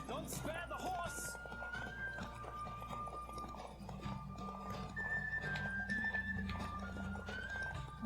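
Galloping horse in The Witcher 3 on Nintendo Switch, with steady hoof clip-clop and an occasional whinny running throughout beneath game music and someone talking over it.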